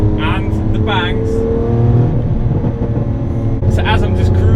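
Loud, close drone from a Lamborghini Aventador S cruising on a motorway, with sharp exhaust bangs and pops mid-clip. Brief speech comes through over the engine at the start and end.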